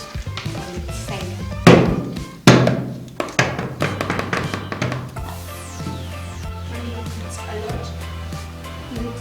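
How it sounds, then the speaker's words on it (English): A baking pan dusted with sifted flour is banged on its side, giving a couple of loud hollow metallic thunks followed by lighter repeated knocks and rattles, close by and with no talking. "You sift the flour onto the baking pan, then you bang it on its side."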